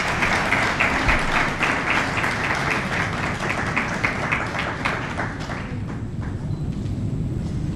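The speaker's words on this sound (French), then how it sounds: "Sous vos applaudissements." Audience applause welcoming an event organizer at a formal ceremony, loud dense clapping from a large crowd that holds steady and gradually thins toward the end.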